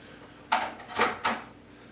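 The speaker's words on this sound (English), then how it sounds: "push your drawer back in" A wooden drawer in a farm-style entry table is pushed back in and latched, giving three sharp, close knocks spaced about half a second apart against a quiet background.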